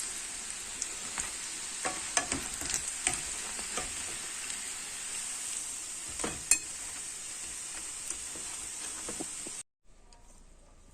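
Yoyo doughnuts frying in oil over lowered heat give off a steady, dense sizzle with faint crackles and stirring clicks. It runs alone with no talk, then cuts off sharply near the end.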